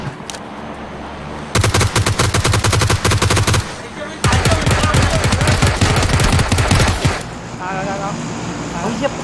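Gunfire in the video game PUBG: two long, loud bursts of rapid automatic shots a few seconds each, separated by a short gap, with people talking faintly underneath.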